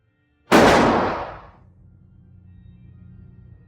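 A single loud gunshot cracks out sharply in a scene from The Godfather, decaying over about a second before a low, sustained organ tone continues quietly underneath.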